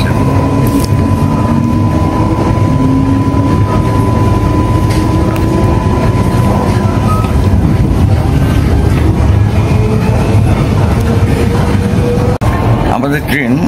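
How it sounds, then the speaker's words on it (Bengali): A Brisbane commuter train runs toward Brisbane Central station, its steady loud rumble and rattle filling the carriage with a faint whine above, continuous throughout, while voices murmur faintly in the background. "ট্রেন ছেড়ে দিল।"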